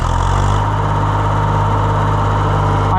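A John Deere 1020 tractor engine idles steadily and loud, a constant low mechanical drone with vibration and no talking.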